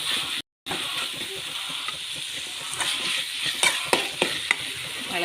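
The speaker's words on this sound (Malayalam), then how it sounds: "ഉള്ളി ചെറുതാക്കി, ഇത് സവാള, ടൊമാറ്റോ ഒക്കെ എല്ലാം ഇളക്കി മിക്സ് ചെയ്ത്" Chopped onion, shallot and tomato frying in a pan for a crab dish, a steady sizzle with scraping stirring strokes and brief clatters from the utensil, close up.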